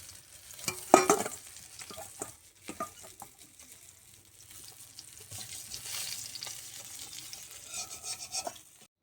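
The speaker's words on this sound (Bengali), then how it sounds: "মাছগুলো ভাজা হচ্ছে এখন।" Pieces of fish fry in oil in a kadai wok with a soft, continuous sizzle broken by a few louder stirring scrapes and clatters near the start, fairly quiet overall and with no voices.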